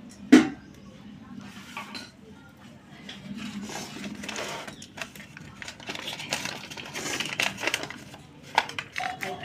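Gram flour batter with kalo jeere and a small green chilli being mixed by hand with water, wet squelching and slapping that grows busier, with a sharp clink near the start and talking over it.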